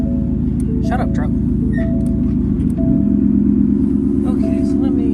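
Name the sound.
2016 Ford F-150 truck engine running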